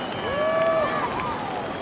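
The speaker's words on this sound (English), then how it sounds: "Crowd just going absolutely wild." A beachside crowd at the Margaret River Pro surf contest final in Western Australia erupts in loud, sustained cheering and whoops, with a few whistle-like tones rising through the dense roar of voices.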